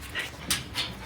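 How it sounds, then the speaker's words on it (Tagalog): A dog pants in a few quick breathy puffs close by, short and fairly quiet, with no talk over it. "Lalabas na yung aso."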